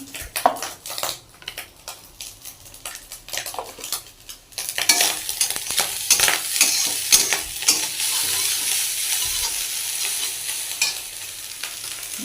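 Leftover biryani being reheated in a pan, with spatula scrapes and stirring clatter against the metal, then a louder sizzle that rises midway and continues under repeated stirring strokes, no voices.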